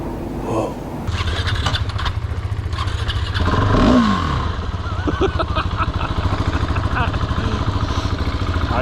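A carbureted dirt bike engine with no fuel injection cranks and catches with plenty of throttle, then settles into a loud, close, rapid idle with sputtering revs.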